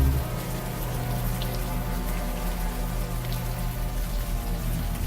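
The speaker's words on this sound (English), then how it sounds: "Now that it's out in the open air, the warm rain is coming down." Warm rain falls in the video game Unavowed as a steady, dense patter that continues unbroken and fairly loud throughout, with no voices.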